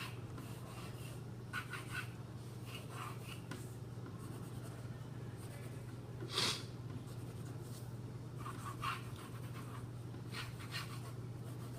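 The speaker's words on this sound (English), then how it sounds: "I'm just drawing some three-dimensional boxes" Pencil sketching three-dimensional boxes on paper: soft, steady graphite scratches and strokes come in short bursts, one sharper scrape standing out, all close and quiet over a constant low hum.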